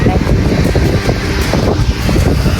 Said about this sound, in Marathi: वारा पण मस्त